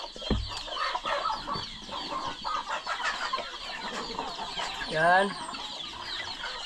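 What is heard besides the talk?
chickens and chicks clucking on a farm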